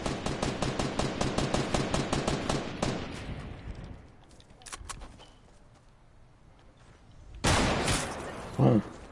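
Video game automatic gunfire rattles in a fast, loud burst for several seconds, fades into sparse distant shots, then a sharp blast hits near the end.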